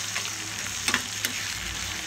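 Finely chopped onions and tomatoes fry in a pan with a continuous bright sizzle, interrupted by a couple of quick scraping stirs and spoon taps close by.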